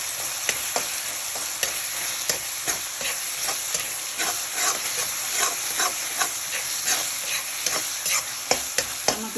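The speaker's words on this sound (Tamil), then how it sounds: "நல்லா இஞ்சி பூண்டு பேஸ்ட் வந்து பச்சை வாசனை போகிற அளவுக்கு வதக்கிட்டுருக்கோங்க." Ginger garlic paste sizzling in a pan for mutton chettinad, with a steady frying hiss and repeated close spoon scrapes and taps as it is stirred.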